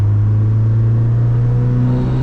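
A car with a built engine and budget turbo kit makes a loud, steady exhaust drone and rumble while driving, with a constant low hum and no talk.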